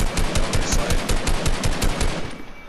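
Rapid automatic gunfire in a multiplayer shooter game, a steady fast stream of loud, close bursts running almost the whole time before tailing off at the end.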